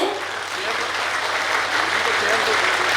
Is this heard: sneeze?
no